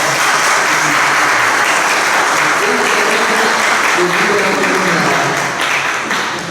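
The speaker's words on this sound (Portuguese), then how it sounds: "uma salva de palmas para o nosso casal" A church congregation applauds a couple celebrating their 50th wedding anniversary, loud dense clapping holding steady throughout before easing slightly at the end, with voices mixed in beneath.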